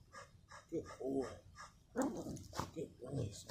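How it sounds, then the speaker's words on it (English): A dog whimpers and yips in short, high bursts, then gives a few louder barks near the end, close by with someone talking over it. "That's my dog."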